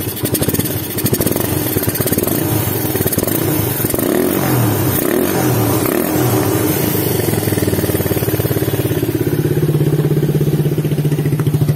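A Suzuki Satria FU motorcycle with a PWK 28 carburetor and an open air filter runs steadily near the listener. Its engine note rises and falls a few times, then settles into a steady, continuous running tone with no talking.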